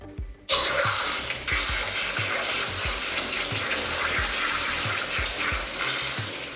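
Shower head water spraying steadily while rinsing a dog during a home bath, a continuous close hiss with small splashes and knocks throughout.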